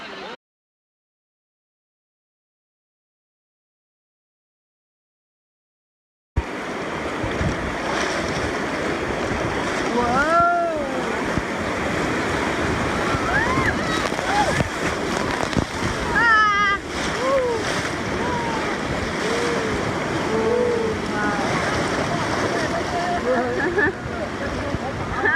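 Raging river water rushes loudly over rocks in a steady, broadband roar with splashes, up close and wind-buffeted, after a stretch of silence; voices speak over it at times.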